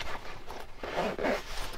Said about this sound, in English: I'm going to open my zipper,